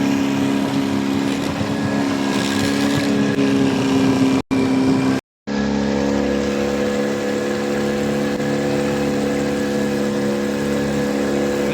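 A fishing motorboat engine hums steadily up close with a droning tone; the sound cuts out briefly twice before resuming.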